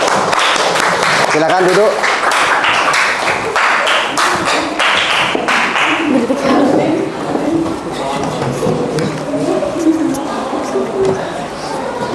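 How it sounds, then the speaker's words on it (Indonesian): A classroom audience at an Indonesian teacher-training session claps in a brisk burst that fades over several seconds, while someone speaks over the tail of the applause. "Terima kasih, berikan aplaus."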